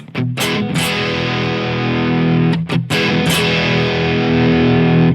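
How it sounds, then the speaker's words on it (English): A heavily distorted electric guitar rings out loud and fuzzy through an Orange TH30 amplifier, two sustained strummed chords with a short break between. "there's distortion, but there's a lot of fizziness going on in there"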